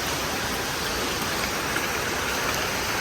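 Heavy rain falls steadily in Thrissur, a loud, even wash of dense hiss with no breaks and no voices.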